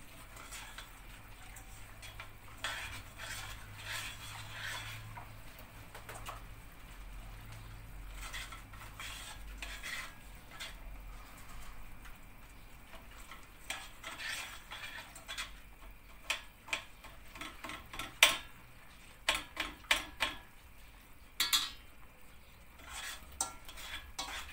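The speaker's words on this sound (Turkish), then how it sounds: "Şöyle şimdi bunu iyice topakları gidene kadar karıştıracağım." A whisk or spoon stirs batter in a bowl until the lumps are gone, making faint rhythmic scraping and ticking against the bowl. The strokes grow sharper and louder toward the end, with no talk.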